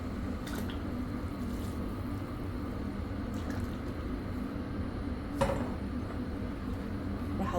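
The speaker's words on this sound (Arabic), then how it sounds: "بدأ يغلي عندي المي، راح اضيف الرز" Rice poured into a pot of boiling water for fish risotto, giving a steady bubbling, liquid rush with a few soft splashes and a brief clatter against the pot near the end, no voices.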